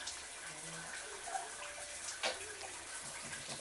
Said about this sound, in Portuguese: Ana Clara quer tomar banho com o papai?